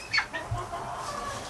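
Backyard chickens give a few short clucks close by, a brief scattered burst of calls over a quiet background.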